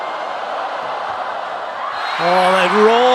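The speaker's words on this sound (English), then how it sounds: "they roar from the crowd" A crowd at a 2017 FIVB Volleyball World Grand Prix match between China and the Netherlands keeps up a steady roar that swells near the end, as a shrill whooping voice rises above the din.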